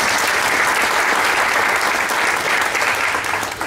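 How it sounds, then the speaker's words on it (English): An audience at a political party meeting breaks into a round of applause, close and loud, a brief steady burst of clapping that tapers slightly at the end. "Let's give her a round of applause."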